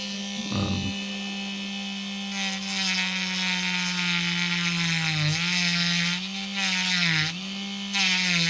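A Dremel rotary tool hums steadily up close while cutting parts from a plastic model kit, its pitch dipping in short bursts as it bites into the material.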